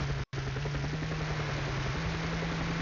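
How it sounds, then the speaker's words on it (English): A helicopter in the Screamer 2 racing game drones with a steady, continuous rotor and engine hum at moderate loudness. The sound cuts out briefly near the start, then holds level to the end. "It's the first time that I actually caught up to the helicopter."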